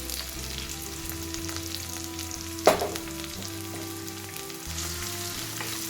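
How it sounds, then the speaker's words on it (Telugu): Onion and green chilli frying in a pan with cumin and mustard seeds, a steady close crackling sizzle with one sharp clank of a spoon midway. "ఇవి రెండు మంచిగా ఫ్రై అవ్వాలి"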